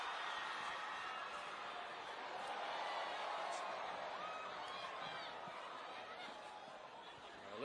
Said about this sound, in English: isn't it wonderful to hear the crowd get in behind the home team?